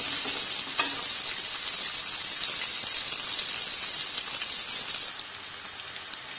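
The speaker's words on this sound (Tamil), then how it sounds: "வெங்காயம் நல்லா வணங்கட்டும்." Two large onions sautéing in a pan for sambar, producing a loud, dense, continuous sizzle that eases slightly near the end.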